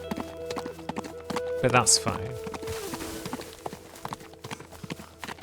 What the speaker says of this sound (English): let's get this indestructible horse across the bridge